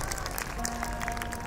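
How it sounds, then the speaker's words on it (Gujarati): Audience applause fills a Patel community get-together in Surat, a dense, steady wash of many hands clapping at once, moderately loud and sustained throughout. "બતાવો એકવાર સાહેબને જોરદાર તાળી."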